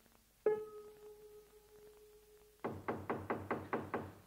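Knocking on a door in a 1970s German radio play: a series of about seven firm, evenly spaced raps, close and clear, following a single sustained tone and then silence.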